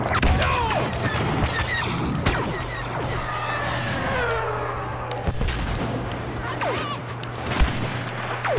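Gunfire in the Star Wars Battlefront beta crackles in repeated sharp bursts and booms across the whole stretch, mixed with game effects and a steady low hum, fairly loud and close.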